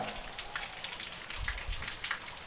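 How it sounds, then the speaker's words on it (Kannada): Steady rain falls on surfaces on Nidagal hill, a continuous dense patter close by with no voices. "ಬಟ್ ಮಳೆ ಬರ್ತಾ ಇದೆ, ತೋರ್ಸೋಕ್ಕಾಗ್ತಾ ಇಲ್ಲ"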